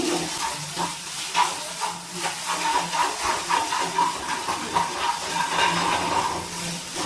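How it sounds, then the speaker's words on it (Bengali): Cauliflower korma masala cooking with a little sugar in a pan, a steady oily hiss and sizzle with soft scraping as it is stirred, fairly close and continuous. "চিনি দিয়ে একটুখানি নাড়াচাড়া করে নিচ্ছি।"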